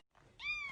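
A house cat gives a single short meow, rising then falling slightly, faint and close after a brief quiet moment, with no talking.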